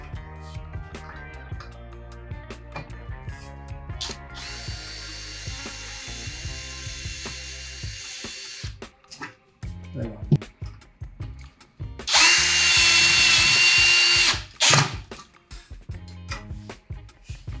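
Power drill driving a screw to join a metal profile to wood, with bursts of whirring interspersed with clicks and handling knocks, a long sustained drive near the end, close and fairly quiet.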